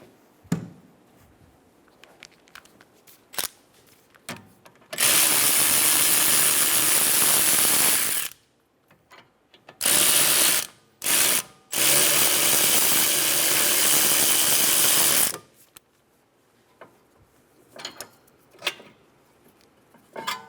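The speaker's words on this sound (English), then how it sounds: "Now loosen the caliper bolts and then remove them." Ratchet loosening the rear caliper bolts on a 2013-2017 Honda Accord, long loud bursts of rapid buzzing clicks in several spurts, close up, with quiet clinks of tools before and after.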